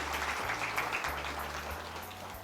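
A church congregation claps in praise during a Hindi sermon, a dense, continuous patter of many hands at moderate distance with no voices over it.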